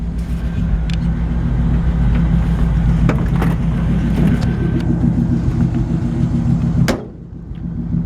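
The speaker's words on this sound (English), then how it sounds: "This truck has a nice sounding dual exhaust" A 1950 Ford F1 truck with dual exhaust idles steadily nearby on a cold day, a deep continuous rumble with a few faint knocks, cutting out abruptly near the end.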